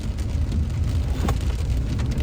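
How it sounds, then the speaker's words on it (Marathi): Rain falls on the road during a car trip through Kerala from Thekkady to Alleppey, a steady close wash of patter over low rumbling road and engine noise, with no talking. "आता तर पाऊस चालू झाला की रे."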